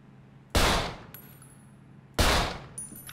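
A newly bought gun fires in GTA V, two sharp loud shots about a second and a half apart, each trailing off with a ringing clang.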